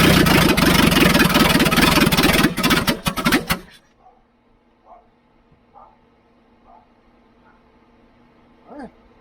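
An engine fitted with a new Weber 3236 carburetor runs loud and rough close by for several seconds, then cuts off abruptly, leaving a quiet space with a few faint knocks and a brief voice.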